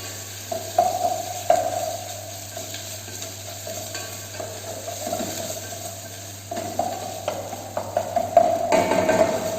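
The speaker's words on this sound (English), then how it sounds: "You have to saute onion garlic paste till the raw flavor of the onion and raw flavor of ginger garlic paste goes out." Onion with ginger-garlic paste sautéing in a pan in a training kitchen for a basic brown gravy, giving a continuous low sizzle with stirring scrapes and clinks that grow busier toward the end.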